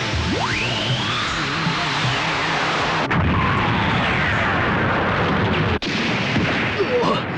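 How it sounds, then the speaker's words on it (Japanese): In an anime, a Vulcan beam cannon explodes in a loud, sustained roaring blast with heavy rumbling and crackling debris that fills the whole stretch, broken only by two brief sharp dropouts. "バルカンビーム砲が爆破されました"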